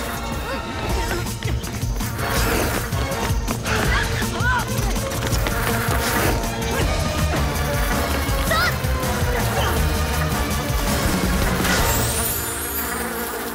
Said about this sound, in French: Vous n'échapperez pas à mes guêpes.